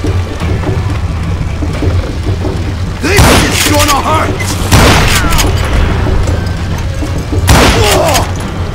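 Gunfire in the western shooter game Call of Juarez: Gunslinger: three heavy, booming shots spaced a couple of seconds apart over a steady rumbling background, with a voice talking between the blasts.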